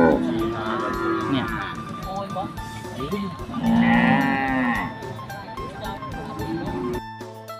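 Cattle moo over and over at the Ban Khok Si Thong cattle and buffalo market, with loud, drawn-out calls overlapping near and far while someone talks through the noise.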